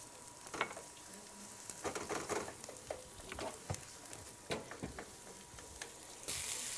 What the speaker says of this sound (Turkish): Domates ve biber salçası ikisini de karıştırdık